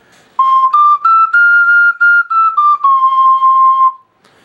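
A clear, pure, whistle-like Maparam STL ocarina plays a short phrase of high notes, stepping up and back down, bright and close with no voices.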